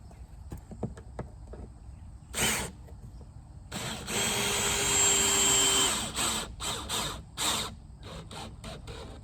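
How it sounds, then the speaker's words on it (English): A power drill drives screws into stainless steel shelves on a food truck exterior. Short whirring bursts come first, then one longer sustained whine and several quick pulses, close and clear, with light handling clicks between them. "and then I'm just going to screw these in"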